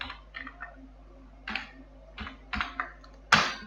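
Typing on a computer keyboard, a few close, separate key clicks in small bursts with pauses, ending in one louder keystroke.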